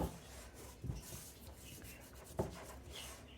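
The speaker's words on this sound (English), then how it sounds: "Let's scrape off what I can off the sides here." A scraper working sticky no-knead bread dough and flour off the sides of a mixing bowl gives soft, close rubbing and scraping, broken by a couple of dull knocks against the bowl. It is quiet, with no talking.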